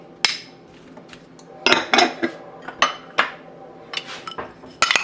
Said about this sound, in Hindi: इसके बाद हम पाइनएप्पल डालेंगे